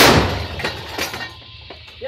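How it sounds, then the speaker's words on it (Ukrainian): A single artillery cannon shot from a Ukrainian gun crew booms loudly at the start, then decays into a fading rumble and echo over about two seconds. "Гармата. Постріл!"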